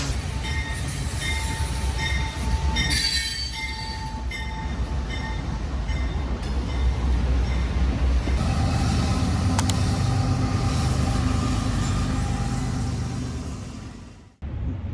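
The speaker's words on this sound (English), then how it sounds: "they disconnect one engine and connect another train" Rumbling Amtrak Empire Builder train engine and rail cars idling and creaking as engines are uncoupled and coupled, with metallic clanks and brief wheel squeal, steady and fairly close, ending abruptly.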